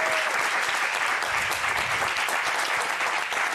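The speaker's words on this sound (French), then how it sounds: "On peut l'applaudir." Dense audience applause fills a TV studio talk show, a steady wash of clapping held at full level from start to finish with no voices over it.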